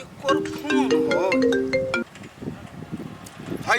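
A mobile phone ringtone plays loudly for about two seconds as a bright electronic melody, then fades into a quieter background with soft murmuring talk.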